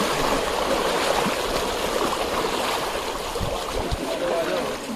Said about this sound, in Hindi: क्योंकि पानी का फ्लो बहुत ज़्यादा है